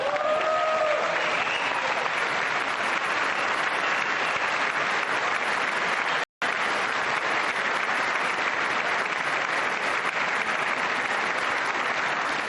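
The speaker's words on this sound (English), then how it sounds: "I wasn't sure if anybody even on this side was going to applaud for that" A large audience in the US Congress chamber applauds loudly and steadily, a dense wash of clapping that holds for the whole stretch, with a brief cut midway and faint voices at the very start.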